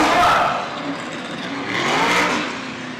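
An old car engine revs loudly at a race track with a broad roar that rises and falls, surging again near the end, with faint voices underneath.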